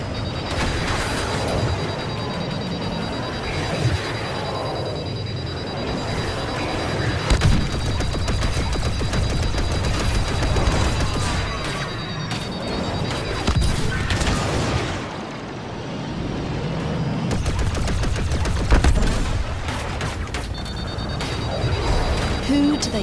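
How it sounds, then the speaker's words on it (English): Explosions and blaster fire from the Star Wars Battlefront 2 video game, with Rey's Millennium Falcon in a space battle, a dense continuous barrage of booms and shots running throughout alongside game voice lines. "Don't let those bombers complete their attack run. We're under fire!"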